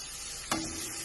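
Crushed shallots, ginger, garlic and green chilli fry in oil for anchovy fry, a quiet steady sizzle with one sharp stirring clink partway through.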